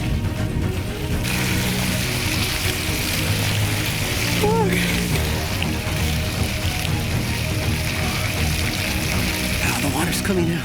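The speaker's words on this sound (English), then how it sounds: "The water's coming out." Water gushes out into an outdoor ice bath, a loud continuous pouring rush that runs unbroken for several seconds while a voice and a few brief squeaky sounds come through over it.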